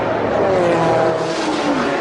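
An Audi Le Mans prototype race car at the 2004 1000 km of Monza enters the pit lane, a loud steady engine drone with a falling pitch as it slows, close by.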